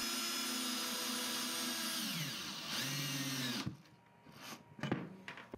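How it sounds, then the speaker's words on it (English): A power drill drives a screw and cable railing receiver into a post, whirring loud and steady, slowing and bogging as it seats, then stopping with a few short clicks and handling noises. "Continue drilling until the receiver fits snug up against the post."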